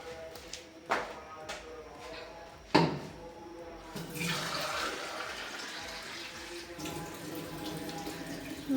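Water from a tap splashes and pours into a pot for a shrimp, new potato and tomato curry, starting after a few sharp knocks and running as a steady, hissing stream that fills the last half.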